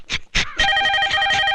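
A telephone rings with a steady, bright electronic trill that starts after a couple of short vocal bursts and continues to the end.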